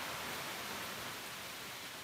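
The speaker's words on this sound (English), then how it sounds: "it's a little bit rainy out here, so you might hear some gusts of wind or rain" Rain with gusts of wind outdoors, a steady, dense broadband hiss that stays even and continuous throughout the short stretch, with no voices heard.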